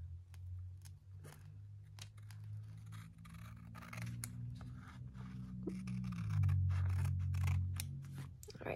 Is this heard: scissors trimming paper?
yes